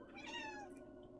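A pet cat named Cloud gives a single drawn-out meow, faint and indoors, rising and then fading away.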